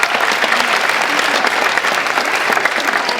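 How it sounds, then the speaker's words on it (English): Audience applause fills a school assembly hall for a student at a Martin Luther King Jr. event, steady dense clapping throughout, loud and continuous. "let's give Ava a big round of applause"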